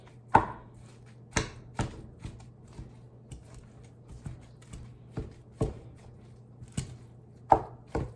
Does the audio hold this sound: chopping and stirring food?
yes